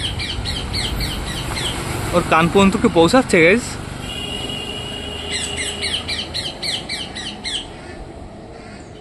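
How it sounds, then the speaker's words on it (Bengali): Recorded parrot calls played through a speaker outdoors: bursts of shrill, repeated squawks in rapid series, with a voice speaking over and between them. "যে কোনো একটা টিয়া পাখির ডাক চালালেই হবে।"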